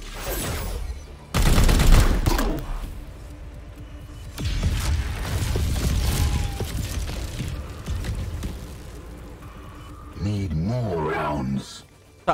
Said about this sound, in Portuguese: Acho que eu vou atirar tudo nele